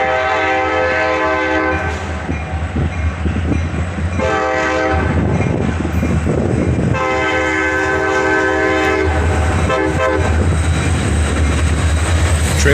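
A CSX freight train led by a pair of EMD SD42 locomotives with a trailing GP38-2 rolls past loudly, its horn blaring in long sustained blasts over the continuous rumble and clatter of the cars.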